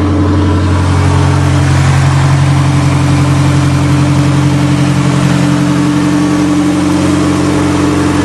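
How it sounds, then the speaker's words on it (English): A car engine with a very low-restriction exhaust running at a fast, steady high idle with a loud, open exhaust drone, close by and unchanging throughout. "It's got a very, very low restriction exhaust, so it's running on high idle, and that's what it sounds like."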